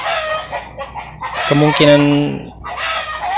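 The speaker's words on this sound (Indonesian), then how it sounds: "itu ayam ikut ramai" A rooster crows loudly at close range in a rural Indonesian home setting, its harmonic call rising and holding for about a second, with chickens clucking around it and someone talking before and after.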